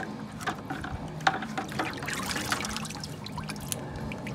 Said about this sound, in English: and rinse them in some salt water.